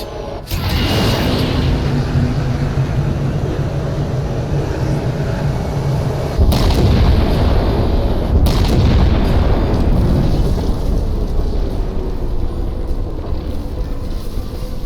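Halo 4 starship firing a shot at a locked target: a loud, sustained rumbling roar that surges into a heavier boom partway through and stays dense to the end, with no talking.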